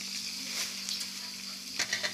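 Beef broth boils vigorously in a pot while beef is blanched for a home grilled-beef meal, giving a steady close hiss and bubbling roar with a few sharper pops near the end.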